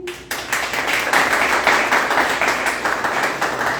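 An audience at an opening ceremony for radiology technicians' day breaks into sustained, even clapping that swells after a brief quiet start and continues steadily throughout, filling a hall.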